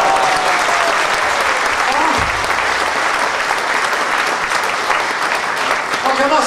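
A concert audience applauds steadily, a dense wash of clapping close by that continues throughout, with brief voices mixed in.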